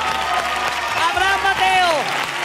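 Applause from a studio audience at a New Year's Eve TV gala, loud and broad, with a voice speaking or singing in tones over the clapping.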